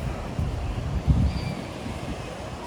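Ocean surf breaking on a beach in the late afternoon, a continuous low rumble and wash of waves with wind buffeting the microphone, no voices.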